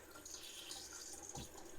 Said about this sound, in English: the taps are working, so we've got the cold tap